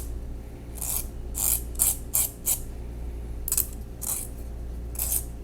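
A small file scrapes at the axle hole of a die-cast Matchbox Toyota Supra Turbo toy car, sharp rasping strokes in irregular bursts, close up over a low steady background hum.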